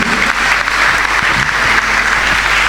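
A church congregation applauds steadily and loudly throughout, a dense unbroken wash of clapping hands that fills the space without pause.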